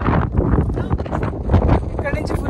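Strong wind buffeting a microphone near the Sangam river confluence in Ladakh, heavy low rumbling gusts that rise and fall continuously, with a person talking underneath.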